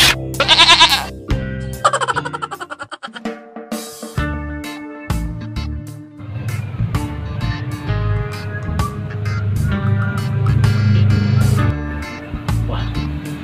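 Goat bleating in a rural Sundanese village setting, several wavering bleats at the start, then quieter, with background noise and clatter continuing beneath.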